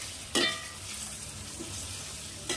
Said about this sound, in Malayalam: ഇനി ചിക്കനൊന്ന് എണ്ണയിൽ പൊരിച്ചെടുക്കണം കേട്ടോ.